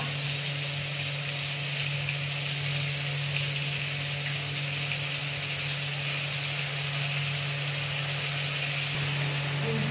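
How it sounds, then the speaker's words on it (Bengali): Cumin, chopped tomato and ground spice paste frying in hot oil, a steady close hiss and crackle of sizzling that stays constant throughout with no pauses. "ফোড়নে দিচ্ছি জিরে, কেটে রাখা টমেটো, বেটে রাখা মশলা"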